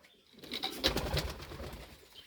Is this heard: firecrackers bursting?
no